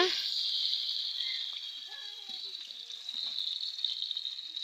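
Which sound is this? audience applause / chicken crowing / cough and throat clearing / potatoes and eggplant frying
potatoes and eggplant frying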